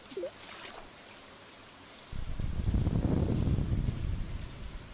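Rain pours down in Stardew Valley, a steady broadband hiss that swells in partway through and holds fairly loud, with no voices over it.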